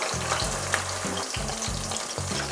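Chicken pakoda pieces frying in hot oil in a pan, a steady close crackling sizzle running throughout with no talking.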